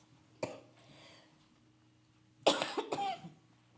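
A single sharp cough sounds in a quiet room, followed a couple of seconds later by a louder burst of several rapid coughs close to the microphone.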